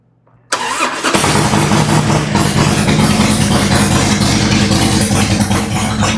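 A Harley-Davidson motorcycle engine cranks over after a moment of near silence, then catches and settles into a loud, steady, rumbling run that stays close and continuous to the end.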